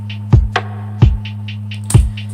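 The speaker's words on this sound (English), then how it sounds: "Of course I found a cool kick. It has like that really Lofi Hip Hop vibe." A lofi hip hop kick drum sample thumps three times in a slow, loose rhythm. Deep, punchy low hits alternate with light ticking percussion.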